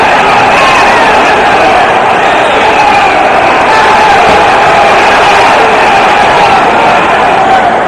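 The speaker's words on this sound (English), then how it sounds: "The crowd is very excited" A large boxing crowd roars and cheers continuously at a 1969 light heavyweight championship fight, a loud dense wash of voices that swells slightly without letting up.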